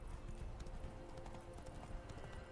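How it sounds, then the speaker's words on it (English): Faint, rapid clopping of hooves walking on hard ground, a steady irregular patter at a distance with low rumbling beneath. "Time to water the horses."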